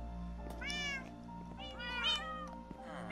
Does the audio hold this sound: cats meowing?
yes